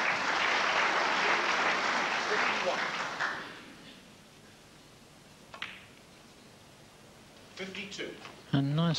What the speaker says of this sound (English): Nice to hear the audience clapping a shot like that.